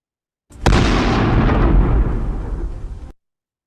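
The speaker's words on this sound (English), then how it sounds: "most of us would identify that sound as an explosion of some type" A recorded explosion played over speakers at a symposium talk: a sudden loud blast followed by about two and a half seconds of rolling, roaring rumble that slowly fades and then cuts off.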